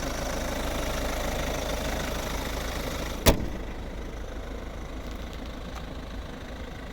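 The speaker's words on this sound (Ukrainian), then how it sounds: "Такий приємний звук дизеля." A 2010 Volvo V50 1.6 HDi diesel engine idling with a steady low rumble, close by; a sharp click or knock cuts in partway through, after which the idle continues slightly quieter.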